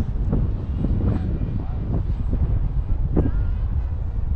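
Strong gusty wind buffeting an outdoor microphone in stormy weather during an FPV drone flight, a loud low continuous roar with surging gusts.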